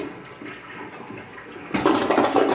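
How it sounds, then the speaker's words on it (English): A cheap hotel toilet at a Holiday Inn in Nampa flushing: a quiet lead-in, then a sudden loud rush of water that surges and keeps churning nearby. "The toilet is a cheap toilet. If you flush it,"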